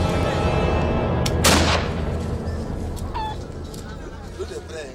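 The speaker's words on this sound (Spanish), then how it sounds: "Los disparos anuncian que una mujer de la comunidad ha fallecido." A single sharp gunshot cracks out in a rural community in Burkina Faso, fired to announce a woman's death, followed by a fading rumble, faint crowing fowl and a voice nearby.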